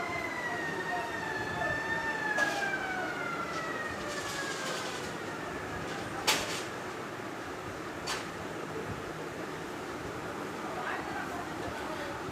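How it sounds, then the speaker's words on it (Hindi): A police car siren wails with a falling, sweeping tone early on and then fades into distant background noise, with occasional sharp knocks and clicks nearby. "पुलिस की गाड़ी"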